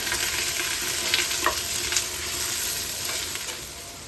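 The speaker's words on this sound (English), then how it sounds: "We're going to add 1 red onion, half of a white onion, and some good old fennel." Red onion, white onion and fennel sizzle steadily in an oiled pan for soup, a dense continuous frying hiss with occasional stirring scrapes, close and alone.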